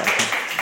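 Audience clapping after a guest's introduction on an Indonesian podcast about Indonesia's role in international peace, a short burst of dense, fairly loud hand claps with no voices over it.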